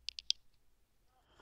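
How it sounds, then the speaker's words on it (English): A loose GoPro night-vision helmet mount gives three quick, sharp clicks in a fast rattle, then falls quiet with only faint background noise. "I'm just going to go ahead and apologize for this rattling noise you hear."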